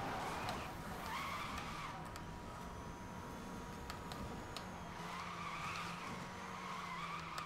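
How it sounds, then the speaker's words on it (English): Skidding tyres and engine noise from a car drifting in a video game, a steady continuous squeal over a droning motor that lasts throughout without a break. "As you can tell, I can drift like a god."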